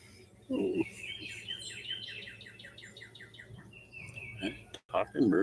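Birds chirp and sing outdoors, quick repeated tweets and trilled phrases running through most of the stretch, with brief bursts of speech-like voice sounds breaking in near the start and end.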